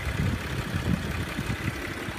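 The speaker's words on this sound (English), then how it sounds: "Very impressive engine." A sport utility vehicle's engine idles nearby, a steady low, throbbing rumble with faint irregular pulses and no voices.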